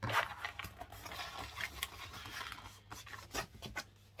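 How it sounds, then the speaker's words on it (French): Paper being folded and creased by hand for a Christmas album cover, soft scraping and rubbing strokes with a few sharper crinkles, close and quiet, ending in a sudden louder tap. "il faut bien plier son papier"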